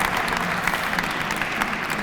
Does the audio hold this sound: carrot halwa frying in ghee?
no